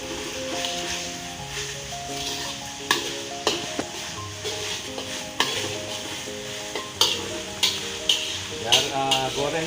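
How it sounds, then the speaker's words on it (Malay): Rendang chicken spice paste fries in a pan with a steady sizzle, while a utensil stirs and scrapes it in repeated sharp strokes that grow more frequent toward the end. "Goreng sehingga naik bau"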